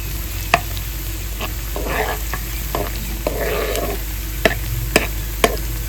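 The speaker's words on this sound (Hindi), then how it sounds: "इनको भी हल्का सा भून लेते हैं।" Garlic leaves and fresh coriander fry in hot oil with a steady sizzle, broken by sharp clicks and scrapes of a spoon stirring the pan.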